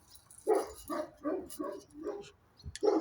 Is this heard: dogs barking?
yes